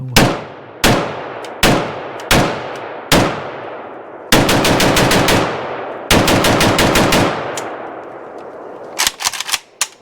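Milspec 7.62x39mm Grom ammunition fired from a rifle outdoors: five single loud, sharp shots with ringing decay, then two rapid strings of fire and a final short burst, all close and with no talking.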